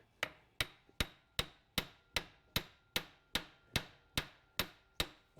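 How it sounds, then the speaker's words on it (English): A hammer taps the end of a 2003-2006 Acura MDX passenger CV axle to push it past the circlip, thirteen sharp metallic strikes in a steady even rhythm, close and alone without talk. "we're just gonna tap it on this end just a little to overcome that circlip"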